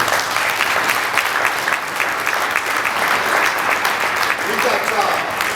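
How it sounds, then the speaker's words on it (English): A football signing-day audience gives a sustained round of applause, with many hands clapping densely and evenly at close to mid distance for several seconds and no break in the sound. "let's give them all a round of applause"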